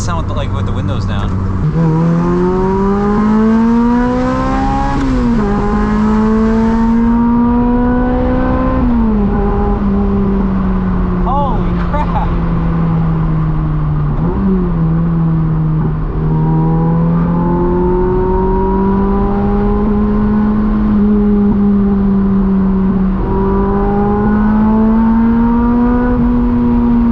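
A Lotus Elise with the windows down revs hard and loud up close, the engine note climbing and falling through repeated pulls in sportbike-like screams, with overrun between surges.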